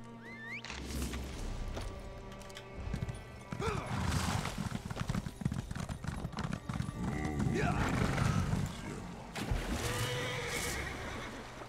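In the video game The Elder Scrolls Online, a horse's hooves clip-clop steadily through water with splashing and a whinny, while someone talks over much of it.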